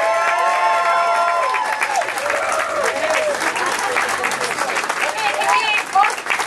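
Crowd applause for political leaders Adriane Carr and Spencer Chandra Herbert at a Green Party coastal-defence rally in Vancouver, a dense sustained wash of many hands clapping with cheering and talk mixed in throughout.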